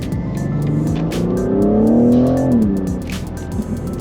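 A BMW M car accelerates hard uphill, its engine note rising steadily and loudly up close, with sharp exhaust crackles and pops scattered over the pull and as it eases off.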